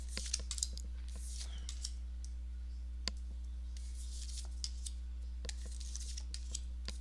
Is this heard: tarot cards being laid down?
yes